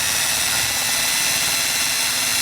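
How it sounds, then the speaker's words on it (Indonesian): An 8 mm drill bit grinds into tough stainless steel while fabricating a dual-valve valvetronic exhaust for a Ford Fiesta, a loud, steady, harsh whirring noise that runs unbroken throughout. "saya lanjut saya bor dengan menggunakan bor 8 mm, diameter 8 mm"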